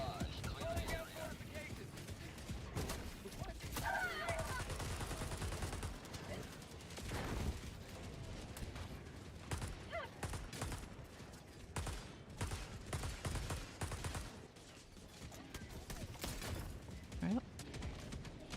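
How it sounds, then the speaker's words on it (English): An orbital barrage strike lands in the video game Helldivers 2, a run of booming explosive impacts and crackling fire, layered with game sounds and talk throughout. "Firing orbital barrage."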